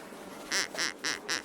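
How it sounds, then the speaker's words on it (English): Four short, bright duck quacks in steady succession, fairly close and clear over a quiet outdoor background with no talking. "What happens when you say duck? Quack. Quack."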